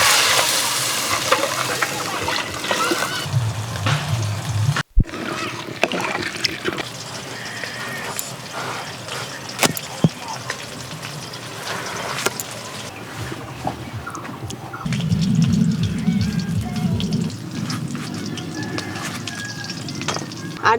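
Lightly browned mung lentils with bottle gourd sizzle and crackle in a hot pan, then water poured in brings a sharp burst and a lower bubbling hiss, with stirring and occasional clinks across the stretch.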